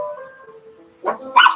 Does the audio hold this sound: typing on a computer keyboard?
no